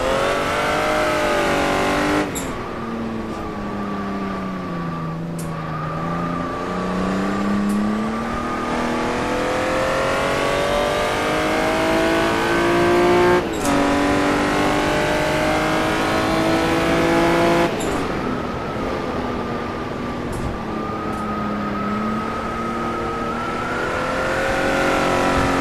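A Jaguar D-type race car at Goodwood accelerating hard at full throttle, its engine note climbing through several gear changes, loud and continuous from start to finish with no talking.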